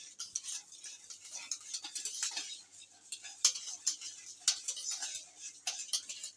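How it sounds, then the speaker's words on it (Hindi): Russian salad being mixed in a bowl with mayonnaise: faint, quick spoon clinks and soft stirring scrapes in an irregular rhythm, close by, with no talking. "अच्छी तरह से मिक्स करिएगा।"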